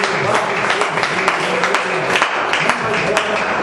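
Church congregation clapping in praise at the close of a service, steady broadband applause with scattered sharper claps, fairly close, and some voices mixed in.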